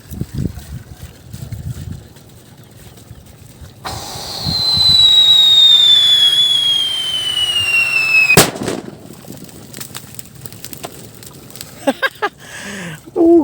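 A homemade firecracker screamer built from a Yakult bottle lets out a loud, sustained descending whistle for about four seconds, ending in a sharp bang, with scattered crackles and outdoor noise afterward.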